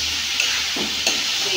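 Chopped bottle gourd (lauki) frying in a pan, a steady close hiss of sizzling oil with a couple of soft stirring scrapes, and no talking.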